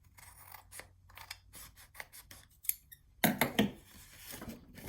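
Scissors cut through 12x12 scrapbook paper in a series of crisp snips, first light and spaced, then a louder cluster of close cuts near the end.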